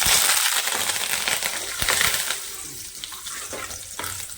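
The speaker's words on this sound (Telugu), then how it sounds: "తర్వాత కరివేపాకు వేస్తున్నానండి." A burst of crackling sizzle as leaves hit hot oil, loud at first and then settling into a steadier, quieter fry with occasional clinks.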